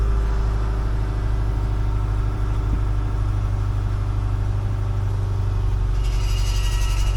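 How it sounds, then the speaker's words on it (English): A Subaru Forester engine idles steadily with a harsh, rumbling exhaust note from an exhaust leak, close and continuous throughout, no talking. "God, that exhaust leak sounds horrible."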